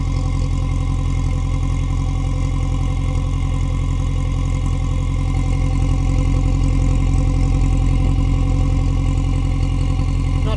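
Piston engine burning 98 octane petrol runs steadily nearby, a loud low rumble with fine rhythmic clatter and an even drone that stays constant throughout.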